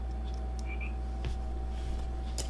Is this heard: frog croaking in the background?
yes